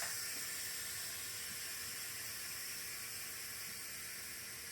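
A pressure cooker vents steam in a quick release, a steady, broad, faint hiss that holds constant throughout with no talking.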